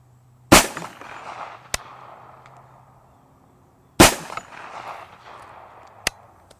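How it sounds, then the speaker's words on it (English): Two sharp gunshots from a Kriss Vector firing .45 ACP tracer rounds at a 300-yard outdoor range, spaced a few seconds apart. Each blast rolls off in a decaying echo and is followed by a faint distant crack. "I'm going to try to demonstrate the trajectory of the 45 ACP by using these tracer rounds"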